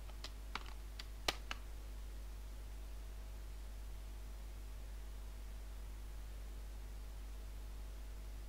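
A computer keyboard tapped in a short flurry of about six crisp keystrokes while entering a password, close by, then steady low hiss and hum with no further typing.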